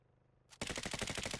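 Sudden rapid automatic gunfire in Call of Duty: Modern Warfare (2019) Warzone, a loud burst of fast repeated shots breaking in after near silence.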